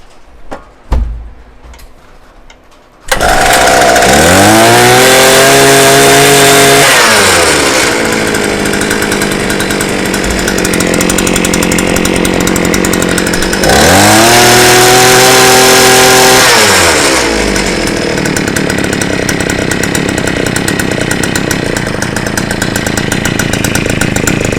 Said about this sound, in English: So let's put it on run. I'm going to choke it. Let's see if it'll crank.